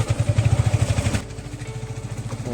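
Close, throbbing idle of a new motorcycle engine with a quick pulsing beat that eases to a softer, steadier running note partway through.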